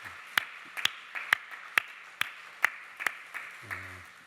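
Scattered, slow clapping from a small part of a church congregation during a Sunday worship service, honoring the choir, soloists, conductor and accompanists; about nine sharp, separate claps spaced across the stretch, ending with a low hum.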